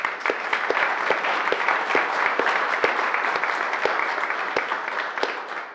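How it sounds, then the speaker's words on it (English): Steady applause from an audience at a work session, a dense wash of clapping with a few sharp individual claps standing out, sustained at even loudness for several seconds with no talk over it. "if you don't mind giving them a round of applause as well"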